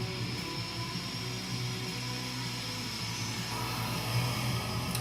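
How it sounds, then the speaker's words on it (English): A cooling reservoir pump and fan on a high-power laser run with a steady broadband whir and hum, continuous and unchanging throughout, with no talking. "that's the sound of the reservoir and the fan right here, keeping the driver cool"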